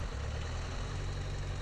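A Robinson helicopter engine in Garry's Mod idles with a steady, buzzing low rumble, close and constant throughout with no voices.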